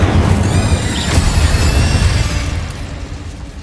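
A Bombarda spell erupts in Hogwarts Legacy with a loud, booming blast, its heavy rumble and bright ringing tail fading over a few seconds.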